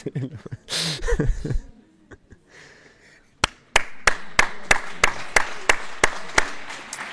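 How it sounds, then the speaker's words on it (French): Spectators at a women's handball match applauding the opposing team, a run of about a dozen steady, evenly spaced claps following a burst of talk and crowd noise. "on applaudit même les adversaires"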